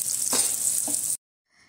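Three chopped onions sizzling as they hit hot oil in a pan, a steady bright hiss that runs for about a second before cutting off abruptly, with no voices.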